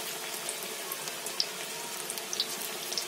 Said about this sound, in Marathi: अशी भजी सोडली ना तेलामध्ये